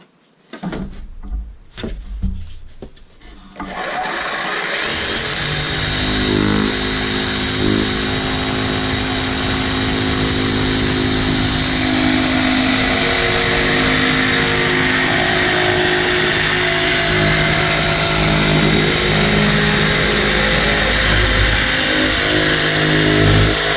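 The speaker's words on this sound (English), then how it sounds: "I mounted the jigsaw blade into the jigsaw." A jigsaw with no orbital action cuts through foam insulation board, starting with a few handling noises before a loud, steady motor whine and buzzing blade run continuously and close up.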